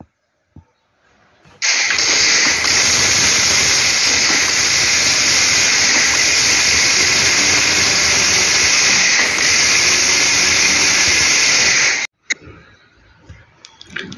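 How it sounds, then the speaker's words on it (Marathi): Electric mixer grinder grinding cooled roasted idli premix mixture, a loud steady whirring roar running for about ten seconds before cutting off, with a faint rattle after it stops. "तर अशा पद्धतीने आपण सगळं मिश्रण जे आहे ते मिक्सरमधनं वाटून घेऊया"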